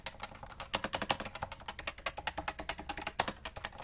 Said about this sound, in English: I have a fully red Topre keyboard over here.